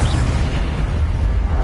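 Incendio fire spell cast in Hogwarts Legacy, a loud, dense burst of flame with a heavy low rumble that holds steady through the short moment.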